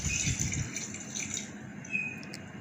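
About half a litre of water pours into a pot of beef mince seasoned with garlic-ginger paste for aloo keema, a soft continuous splashing and trickling, fairly quiet and close, with no talk.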